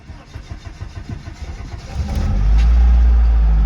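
Engine of a 1990s project car that had sat for years, cranking and catching after a fuse replacement and fresh fuel, then settling into a loud, steady idle close by.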